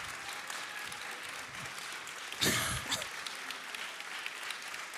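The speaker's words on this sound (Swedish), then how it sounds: "Ja, fortsätt applådera ända tills de är uppe." An audience at a semifinal of Funkisfestivalen at Nalen applauds steadily, a dense wash of clapping that swells briefly in the middle, with a few faint voices underneath.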